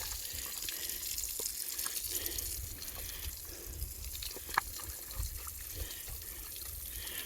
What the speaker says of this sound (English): They like getting hosed off some.